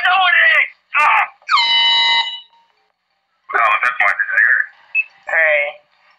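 An air horn blares over a phone line in one long, harsh tonal blast. Loud, excited talking comes before and after it.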